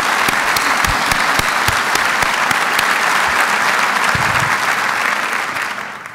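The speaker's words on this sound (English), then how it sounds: "Let's give our ladies a round of applause." Large audience applauding the women's volleyball team at a university address, loud sustained clapping with crisp individual claps popping out, holding steady for several seconds before starting to fade.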